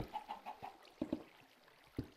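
Chickens clucking in the Minecraft video game, a short run of soft rhythmic clucks followed by a few sharper, louder bird calls, faint and close with no speech.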